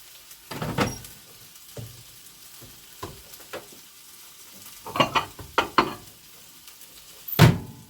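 Food frying in a pan is stirred in short, irregular bursts of scraping and sizzle, close up, with quiet gaps between strokes and a sharper clatter near the end.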